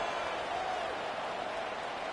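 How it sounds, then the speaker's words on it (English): A stadium crowd at a college football game buzzes after a touchdown, a dense, steady roar of many voices filling the air without pauses or distinct cheers. "this crowd is buzzing after that last score"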